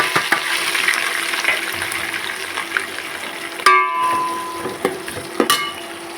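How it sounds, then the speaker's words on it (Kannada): Onion, green chili and curry leaves frying in hot oil, a steady close sizzle with stirring clatter and a few sharp metallic clinks of a utensil against the pan. "ಈಗ ಈ ಟೈಮಲ್ಲಿ ಈರುಳ್ಳಿ, ಮೆಣಸಿನ್ಕಾಯಿ, ಕರಿಬೇವು ಹಿಂಗೆ ಹಾಕ್ತಾ ಇದ್ದೀನಿ"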